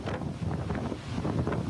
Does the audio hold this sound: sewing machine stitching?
no